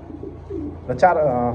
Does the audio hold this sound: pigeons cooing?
yes